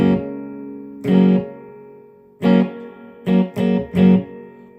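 Electric guitar played through an FDR1 Deluxe Reverb amp-in-a-box pedal with a little gain and reverb, heard as a few separate strummed chords with a gritty tone and reverb tails ringing out between them.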